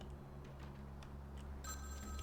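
A telephone rings faintly in the video game Vampire: The Masquerade - Bloodlines, its ring entering near the end over a steady low background hum, with no one talking.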